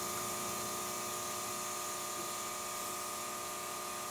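An electric toothbrush vibrates against a hoy tomato flower to pollinate it in an indoor hydroponic garden, making a steady, close electric buzz with a constant hum that runs through the whole stretch without any talking.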